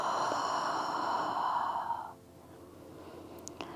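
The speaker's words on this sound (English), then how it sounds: "And 1 more breath, inhale and exhale." A slow, voiced exhale during yoga breathing, one long breathy sigh lasting about two seconds that fades into quiet room tone.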